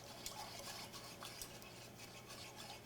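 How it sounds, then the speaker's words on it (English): Cream stirred in a pot with scraped vanilla beans for panna cotta, a faint, close run of soft scraping and swishing strokes with light utensil clinks and no voices. "And just mix this up, and I also add the vanilla beans straight into there."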